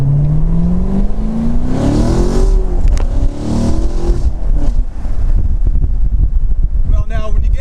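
C7 Corvette fitted with an AWE catless X-pipe exhaust revs up toward about 5,000 rpm, a loud rising engine roar that drops back to a rumbling burble, with wind noise on the microphone.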